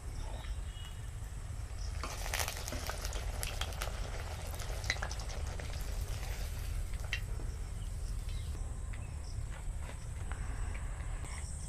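Palm-flavoured pakwan pitha batter cakes fry in a little oil, giving a continuous even sizzle and bubbling with faint crackles throughout, alone and without talk.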